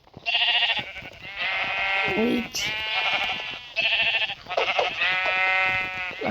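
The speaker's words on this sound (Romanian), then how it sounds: "Aoleu, câte oi sunt aici." Several sheep in the Minecraft Lucky Block game bleat in repeated loud, wavering cries one after another, and a voice speaks briefly among them.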